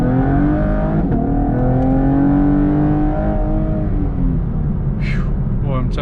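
A modified 2019 sixth-generation Chevrolet Camaro with a Borla exhaust revs hard and climbs in pitch as it accelerates, loud and close, with a brief voice heard near the end.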